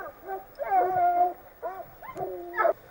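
Hunting hounds give tongue while chasing a hare across hilly fields and hedgerows, with a run of yelping, whining cries that rise and fall in short bursts, fairly close and clear, with no talk over them.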